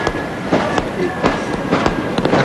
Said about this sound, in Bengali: এখনো আতশবাজি কিছু কিছু চলছে।